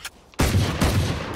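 Gunfire in the video game Valorant: a short burst at the start, then a loud sustained volley of shots from about a third of a second onward, with a second surge partway through.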